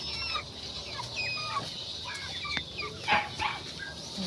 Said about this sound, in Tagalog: Tapos meron din mga manok dito.